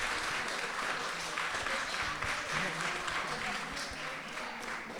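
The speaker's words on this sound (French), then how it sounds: "Je pense qu'ils ont le droit à vraiment de très très gros applaudissements pour ce projet." An audience at a high school event applauds a student film project, steady, even clapping that carries at moderate volume from start to finish without pause.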